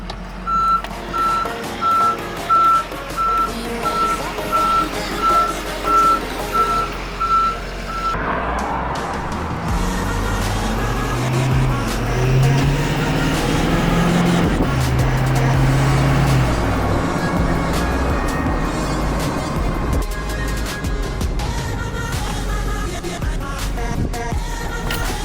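A truck pulls out on a test drive, its reversing alarm beeping steadily at first, then the engine revs and rumbles as it drives off, loud and close throughout.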